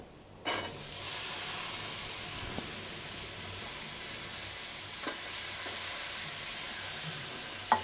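Potatoes fry in a pan for a simple aloo fry, giving a steady close sizzle and hiss with a few soft clinks of stirring, no voices.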